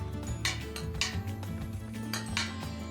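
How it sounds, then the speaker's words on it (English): A utensil scrapes and clinks against a pan while meat sauce is stirred, several knocks and scrapes over a steady low hum, fairly quiet and close. "So now let's stir it a little bit."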